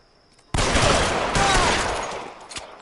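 Rapid burst of gunfire in the video game L.A. Noire on a busy street, a sudden loud crackling volley of overlapping shots that fades over two seconds, with a sharp final report near the end.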